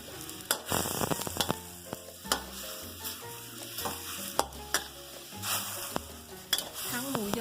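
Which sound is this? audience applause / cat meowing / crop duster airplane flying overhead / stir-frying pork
stir-frying pork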